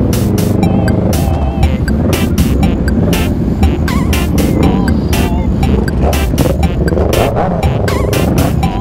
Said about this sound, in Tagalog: So, yung tunog ng 4 cylinder sa likod ko.